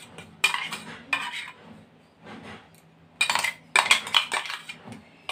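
Mango pulp is scooped into a large bowl for mango ice cream, with sharp clinks and scrapes of a metal spoon against the bowl coming in irregular bursts, close and fairly soft.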